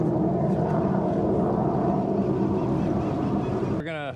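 The motor of a Blazer Bay 2220 GTS bay boat warms up with a steady drone, rumbling continuously at close range, with a brief voice-like sound near the end.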